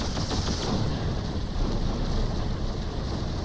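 Big pulse cannons fire in a continuous roaring, rapid stream during a space battle against Xenon ships in X3 Terran Conflict, dense and steady with no talking.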